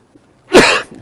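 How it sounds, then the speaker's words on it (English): A single sharp, harsh asthmatic cough, close and loud, preceded by near silence. "I've got a cough, excuse me, it's asthma."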